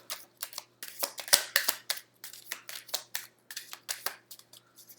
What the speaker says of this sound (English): I usually shuffle 3 times.